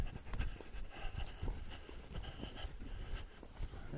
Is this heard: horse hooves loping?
yes